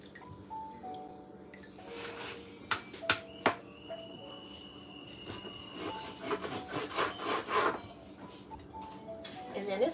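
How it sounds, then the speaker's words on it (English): Knife pre-slicing raw lamb chops on a board, soft scraping and sawing strokes with a few sharp taps, close and quiet, while a person talks over it. "So I'm gonna go ahead and just pre-slice them"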